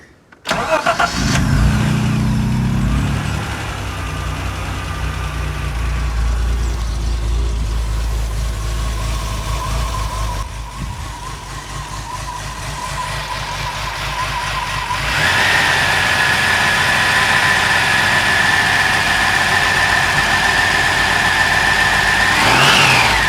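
A Ford Sierra Estate Mk1 4x4 Ghia's 2.8i engine, reluctant to stay running, turns over and is held up with throttle, a loud close idle rising and falling in revs, later joined by a steady high whine, without speech.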